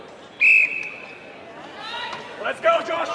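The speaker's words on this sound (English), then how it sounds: "Okay, on the whistle." A sharp referee whistle blast starts an event at a men's open strongman competition, loud and brief, then cheering and shouting from the crowd rise behind it.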